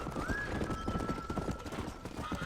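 A horse gallops in the Red Dead Redemption video game, its hooves drumming a quick, steady clip-clop throughout, with a brief whinny early on.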